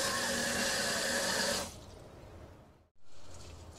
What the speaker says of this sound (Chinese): 呢啲粉丝啊，我都系洗一洗啊